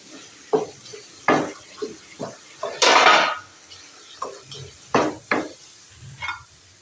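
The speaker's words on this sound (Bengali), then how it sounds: "ঢাকনাটা ঢপ ঢপ ঢপ ঢপ করে খালি পড়ছে" A lid clatters on a pan of boiling eggs, a series of uneven, sharp metallic taps at close range, with one longer rattling burst partway through.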